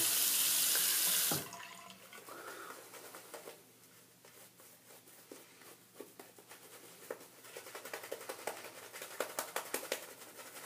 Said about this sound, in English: I'm just going to wet my face and we'll go ahead and get started here.